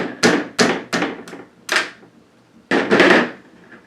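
Punching the pins out of a Hatsan Blitz air rifle during disassembly produces sharp metallic strikes, four spaced hits and then a dense cluster of blows, loud and close with short ringing decays.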